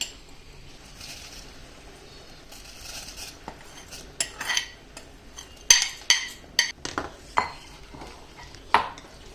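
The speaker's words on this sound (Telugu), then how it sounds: "ఇప్పుడు మనం వేయించి పెట్టుకున్న సేమియా ఉంది కదా ఇది మనం ఇందులో యాడ్ చేసేద్దాం" Roasted vermicelli is added to a pot of sweet payasam and stirred, with soft scraping and then a run of sharp metal clinks and knocks from a spoon against the pot, close and irregular.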